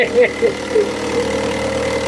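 A boat engine idles steadily with a low, even hum, while excited voices call out over it in short bursts near the start.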